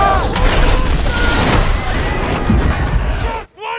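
Cannon and musket volleys in a Napoleonic battle scene, a continuous heavy roar of booming fire and rolling gunfire that cuts off sharply near the end, with shouted orders mixed in.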